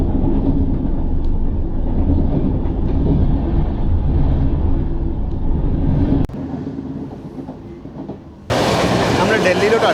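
The 12431 Rajdhani Express rumbles along at speed in First AC while overtaking the Sachkhand Express on its left, with a steady loud roar and faint rail clatter. A sharp click is followed by a sudden burst of broader, louder rushing noise near the end.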